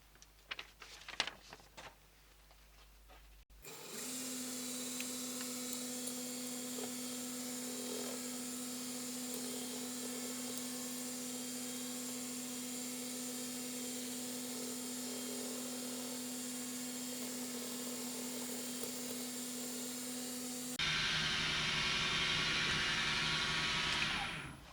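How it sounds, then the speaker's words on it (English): A small lathe or milling machine cuts features on both sides of a wobbler engine part, a steady whining hum with a sustained tone running about seventeen seconds, ending in a louder, harsher stretch of cutting noise. "then I'll machine these features on both sides"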